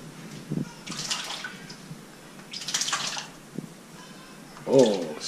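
A pet bird splashes in shallow bath water, giving a few short, near splashes and drips between quiet gaps, with a person talking softly nearby.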